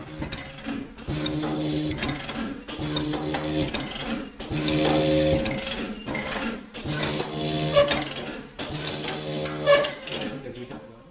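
A vacuum seeder in a plant nursery drops seeds one by one into the holes of nursery trays. It runs as a steady, repetitive mechanical clatter and whir with regular bursts, loud and close, and no talking.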